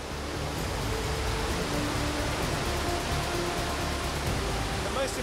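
A rushing river inside a vast cave roars as a steady, loud, broadband wash of water, unbroken for the whole stretch with no voices.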